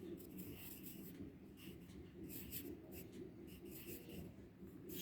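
A pen scratches steadily across paper as word meanings are written out for a class 3 lesson, a soft continuous rubbing close by and quiet throughout.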